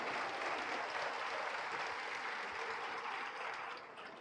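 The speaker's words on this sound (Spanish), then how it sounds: "Bueno, si va a aplaudir, hágalo" A church congregation applauds during a sermon, a dense, steady wash of clapping from many hands that carries on evenly and fades slightly at the end.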